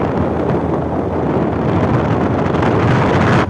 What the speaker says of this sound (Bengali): এই গরমের মধ্যে অনেক মিষ্টি মিষ্টি বাতাস এই এলাকায়।